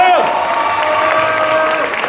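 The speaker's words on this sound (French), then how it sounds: "Je vous demanderai d'applaudir Dan Cardozo, s'il vous plaît." A crowd at the Paris Manga convention applauds and cheers for a guest at a Buffy reunion panel, loud, sustained clapping with raised, whooping voices over it.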